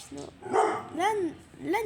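A dog barks and yips several times in quick bursts close to the microphone, with rising and falling whimper-like tones between them.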